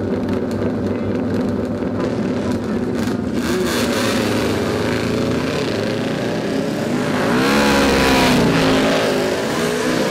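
Classic racing motorcycles at a motorsport event in Oosterwolde, with a continuous loud engine roar and rising revs as machines pass nearby, swelling louder toward the end.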